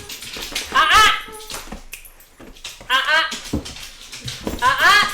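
An excited dog jumping all over people gives high, repeated whimpers and yips in short bursts, close and fairly loud, while people talk around it.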